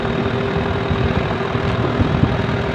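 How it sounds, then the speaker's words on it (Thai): A farm tractor engine idles, brought in to push a stuck truck being loaded with bananas: a loud, steady, low rumble that holds throughout, with no talk. "รอรถไถไปดันครับ นี่ครับ รถไถ นี่มาขึ้น"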